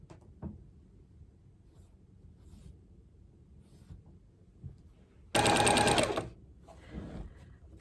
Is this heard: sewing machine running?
yes